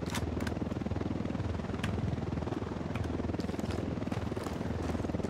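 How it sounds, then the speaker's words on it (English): Ghost Recon Wildlands: a helicopter's rapid rotor chop thumps steadily and fairly loud, with a few sharp clicks scattered over it. "Is that helicopter? Yep, it's a helicopter."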